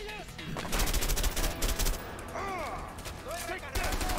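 Repeated automatic weapon fire in the co-op action game A Way Out, with dense, loud volleys over the first two seconds, then scattered shots mixed with swooping game effects and a voice talking under the action.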